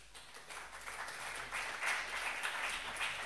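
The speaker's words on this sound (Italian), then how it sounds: "Queste che applaudono sono amiche mie" An audience of friends claps together in a brief burst of applause, faint and distant, building slightly toward the end.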